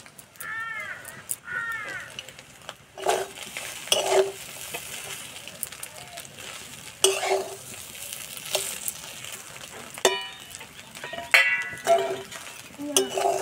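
A pan of village-style egg chowmein, with ground fried spice, egg and fried nuts, is stirred with scraping clatters and light sizzling while crows caw repeatedly nearby.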